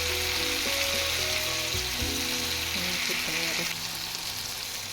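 Half-cooked vegetables for sambar sizzle in a pan with a steady, bright hiss throughout, while faint tonal sounds hum underneath.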